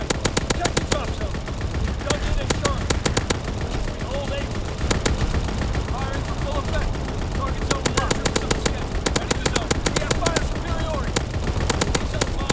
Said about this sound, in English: Anti-aircraft salvo commenced. Clearing the skies.